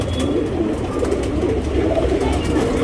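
Smoky-grey pigeons cooing nearby in a loft, a dense continuous murmur of overlapping low coos with a steady background hum.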